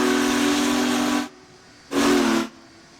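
A Union Pacific Big Boy steam locomotive whistle in Train Simulator 2021, set in a cold environment, gives two loud, breathy blasts: a long one, a short pause, then a shorter second blast.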